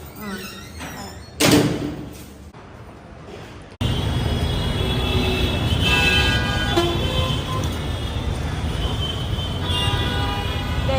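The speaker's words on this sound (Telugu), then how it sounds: "మస్తు ట్రాఫిక్ ఉంది నాంపల్లి దగ్గర" Heavy road traffic near Nampally, with a loud close thud early on, then a dense, continuous rumble of vehicles and several short car horn toots over the din.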